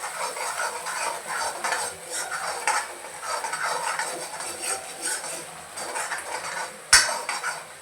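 Ground masala paste being stirred and sautéed in oil in a pot for a Maharashtrian katachi amti, with steady spoon scraping and clinking against metal over a soft background sizzle, and a sharp knock near the end.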